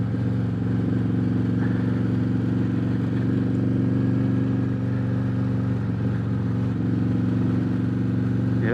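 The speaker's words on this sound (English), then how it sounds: "I know once when I give it a whole hand of throttle here," A Harley-Davidson Road Glide Special Stage II with an S&S 475 cam at full throttle on the road, giving a steady, loud, low V-twin drone with wind noise that holds without clear gear changes.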